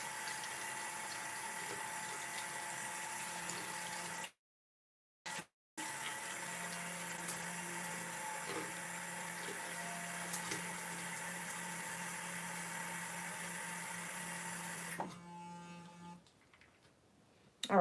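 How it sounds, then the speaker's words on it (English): Water from a bathroom tap runs steadily and quietly while a face scrub brush is rinsed, a constant hiss broken by a couple of brief drops to silence and tapering off at the end. "Let's go ahead and rinse this brush off and stuff."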